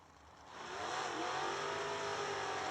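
A 1989 Camaro drag car launching at a bracket race, engine swelling from a low idle into a loud, sustained high-revving roar heard from a moderate distance.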